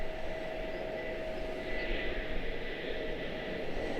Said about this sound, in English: Contour touching down over on the far side.